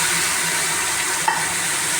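Spices such as fenugreek fry in hot oil for kadhi pakora, giving a steady, close sizzling hiss that runs throughout, with a brief soft clink near the middle and no talking.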